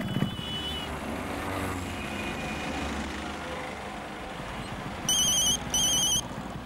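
A phone ringtone plays in a Hindi-dubbed action movie scene. Two short bursts of bright electronic trills sound over a low, continuous rumble of background noise. The rings are fairly loud and come near the end.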